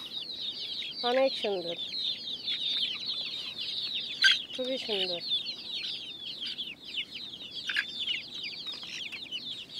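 Hens cluck beneath the roof of a Bangladeshi pigeon and hen farm, white hens among them, amid a constant busy chatter of birds, with a few loud clucks and brief speech.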